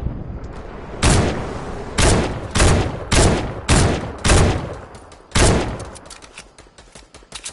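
Bursts of video game gunfire crack out in a rapid string of loud, close volleys, about seven heavy salvos spaced roughly half a second apart, each trailing into a short echoing decay.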